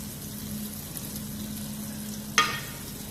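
A mixed vegetable curry simmers and sizzles softly in a pan, a low steady bubbling hiss broken by a single sharp scrape of a spoon against the pan.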